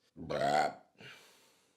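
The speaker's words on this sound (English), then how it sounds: "Sorry, I burped." One close, loud burp with a croaky, voiced rumble, followed by a quieter breathy trailing sound.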